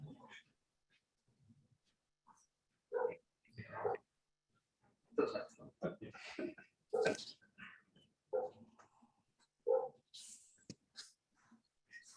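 A dog barks, yips and whimpers faintly in the background of a council meeting's online call, coming in short scattered bursts around people talking.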